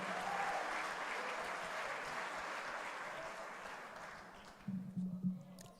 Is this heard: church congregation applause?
yes